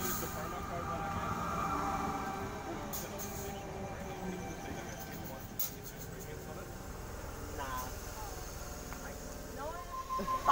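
A Sydney train rumbles through North Strathfield station at moderate distance, with a steady low rolling noise, some rail squeal and clicks, and people talking nearby.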